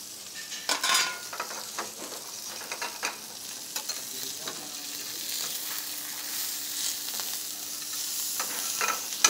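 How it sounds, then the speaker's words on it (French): Foie gras sears in a hot pan in a professional kitchen, a steady close sizzle and crackle with occasional utensil taps and scrapes, no talking. "Maintenant c'est la cuisson du foie gras parce que le bœuf ne va pas tarder d'être cuit"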